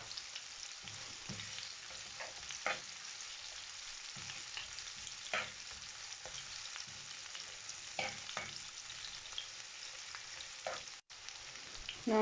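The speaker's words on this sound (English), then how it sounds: "Now I'm gonna put my onions in. I love onions. And I'm just gonna let them sauteed." Onions sauté in hot oil in a pan for Jamaican ackee and saltfish, a continuous close crackling sizzle with occasional stirring scrapes and spatters.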